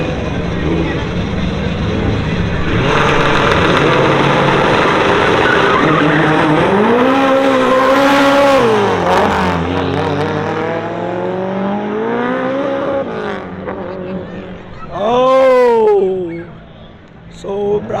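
Drag racing cars at an ESR drag event in Songkhla launch and accelerate, their engines roaring loud and continuous with rising and falling pitch sweeps, a tire squeal mixed in, and voices talking over the noise.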